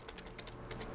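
Keys clatter on a computer keyboard as code is typed for a LeetCode problem, a quick, close, uneven run of taps filling the whole second.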